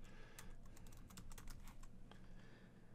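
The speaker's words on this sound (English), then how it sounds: "we'll put in any password that we want" Password typed on a computer keyboard while setting up a self-signed certificate on Server 2016, a quick run of close, crisp key clicks with a few louder taps over a low background hum.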